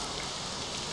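Steady rain falls in Morrowind, a dense, even hiss of drops with no breaks, filling the whole moment at a constant moderate level.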